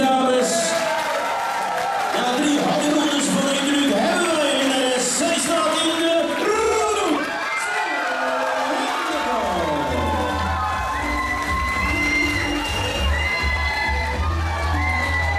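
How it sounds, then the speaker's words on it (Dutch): Crowd at a martial arts event between two women fighters cheering, whooping and shouting loudly throughout, with music and an announcer's voice over the noise. "graag een sportief applaus voor de beide dames"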